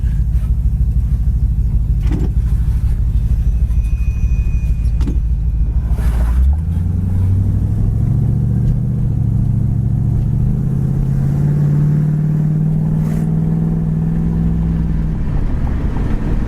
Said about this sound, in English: This Camaro's got a great sound to it as well.